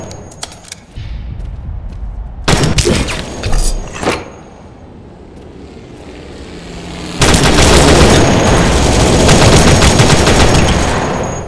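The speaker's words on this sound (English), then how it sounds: "Throwing a grenade!" Loud battlefield gunfire in the World War Heroes shooter game, with sharp bursts and a heavy blast, then sustained rapid machine-gun fire with no voices over it.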